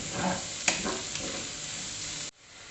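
Shallots, onion and green chillies sauté in a pan for Kerala-style beef, a close, steady sizzle with a few stirring scrapes, cutting off abruptly near the end.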